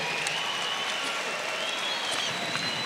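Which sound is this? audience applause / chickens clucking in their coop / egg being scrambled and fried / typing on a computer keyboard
audience applause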